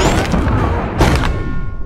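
A tank blowing up in a TABS battle simulation: a loud, boomy explosion with a sharp blast about a second in, over a continuous rumble of battle noise.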